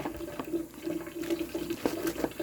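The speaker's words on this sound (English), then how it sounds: "get a running tap going, make sure the water is cold" Cold water runs steadily from a kitchen tap, a continuous close splashing stream that lasts throughout without any voices.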